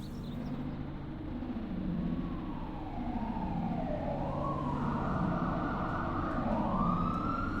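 An ambulance siren wails in a steady rising and falling cycle, moderately distant and fairly quiet, with no other voices.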